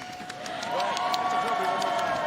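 An esports championship crowd claps and cheers in a steady wash of applause, with a voice talking over it.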